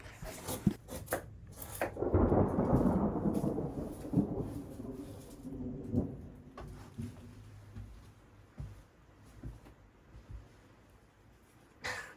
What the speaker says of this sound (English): then we just stayed inside and listened to the thunder